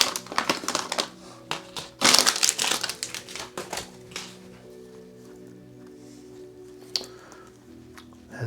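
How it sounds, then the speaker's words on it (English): Plastic keychain packaging being slit and torn open: sharp snips, crinkling and ripping bursts up close, busiest early and then tapering into sparse rustles with one late crackle. "I'm just gonna cut a slot here and tear the rest"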